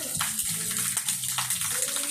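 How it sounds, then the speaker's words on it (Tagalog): Spring water from the mountain gushes loudly out of a large pipe at an inland resort in Canlaon, a dense, close, unbroken rush of splashing. "Yung tubig galing sa taas ng bundok."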